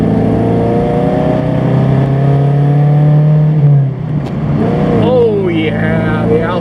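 An Alfa Romeo engine with a bare-minimal exhaust revs in second gear, a loud steady drone climbing and settling as the car pulls, then rising again with sharper pitch sweeps near the end.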